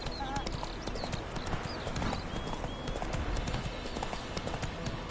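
Horse hooves clip-clopping in a rapid, steady rhythm in the video game The Witcher 3, close and continuous, with a voice speaking over them.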